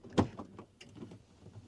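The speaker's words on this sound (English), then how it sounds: "I'm opening the door." A door opening, a single knock-like thud followed by brief creaks and rustles, close and fairly quiet.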